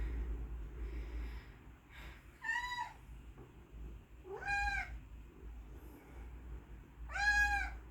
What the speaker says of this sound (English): Every time I sit down at this table, a cat just appears.